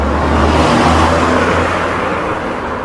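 A car rumbles past close by, a broad steady roar of engine and road noise that swells and slowly eases off.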